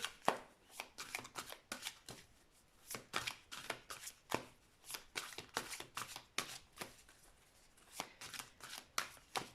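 Tarot cards riffle and slap in repeated quiet shuffles, soft papery bursts with short gaps, close by and without talk.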